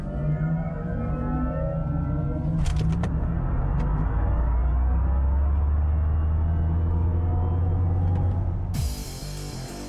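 An AMG electric car's synthetic drive sound, a low humming tone whose pitch and intensity rise and shift with acceleration and load, steady and close, ending in a brief noisy burst.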